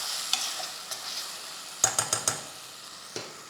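Tomato and coriander sautéing in a pan for a school lunchbox dish, a soft steady sizzle broken by a few quick clustered scrapes of a spoon against the metal, close and fairly quiet with no talking.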